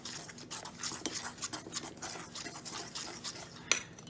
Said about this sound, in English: And I start the mix with a fork a little bit,